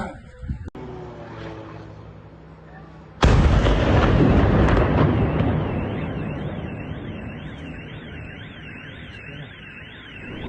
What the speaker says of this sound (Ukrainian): Над містом прогреміло кілька вибухів.